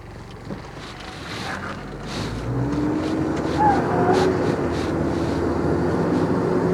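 A Japanese-import Toyota Hilux Surf with a 3-litre four-cylinder engine pulling away in drive, a low engine drone rising and growing steadily louder as it accelerates, heard from inside the cabin with no talk.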